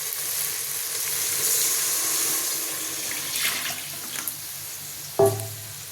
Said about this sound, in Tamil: இப்போ நம்ம புளி ஊற்றிடலாங்க.